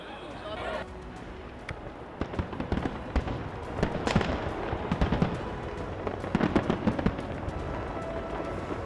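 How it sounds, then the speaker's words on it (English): New Year fireworks over iconic lit-up city landmarks, with a dense stream of crackling pops and scattered sharper bangs building through the clip amid a crowd's background noise. "Iconic places were lit up with the fireworks and lights"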